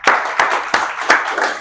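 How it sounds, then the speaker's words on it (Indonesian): Children in a classroom clap hands together in four sharp, evenly spaced rounds, loud and close, with no talk. "berarti tepuk tangan."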